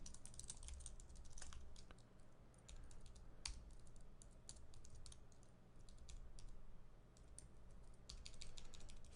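Quick bursts of clicky keystrokes on a computer keyboard while writing code, with steady uneven rhythm and brief pauses, fairly quiet and close, over a low background hum with no talk.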